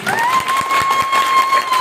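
A large audience claps together at a live dance tribute event, steady rhythmic applause filling the hall with a sustained tone over it.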